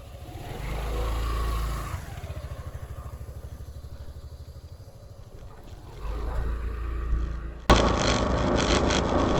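A motor scooter rides along country roads, its small engine droning steadily close by, with the pitch rising and falling as it accelerates and eases off, and a burst of wind noise toward the end.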